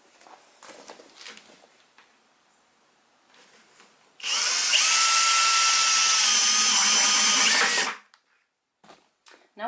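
A power drill with a 1-inch bit whines loudly for about four seconds as it bores through a 5-gallon bucket, preceded and followed by quiet handling and shuffling sounds.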